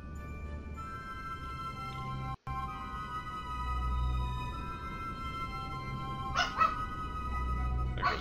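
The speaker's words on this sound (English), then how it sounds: "There goes my dog again." A dog barks and whimpers in a room while the Kerbal Space Program game plays. The yelps come as short bursts near the end, over a steady background hum of game music.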